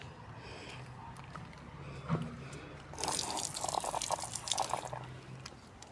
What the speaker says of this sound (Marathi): इथे पाय धुवायला पाण्याची सोय आहे पाय धुवून घेऊ इथे